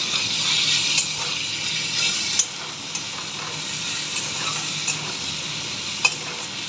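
Onions, slit green chillies and tomato frying in hot oil keep up a steady sizzle, broken by scattered clinks and scrapes of a spatula as they are stirred in the pan.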